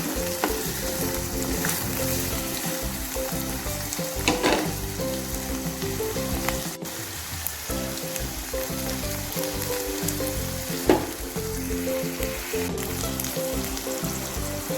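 Small shallots with salt fry in a hot pan for Trivandrum-style chicken thoran, giving a loud, continuous close sizzle with occasional scraping stirs and no voices.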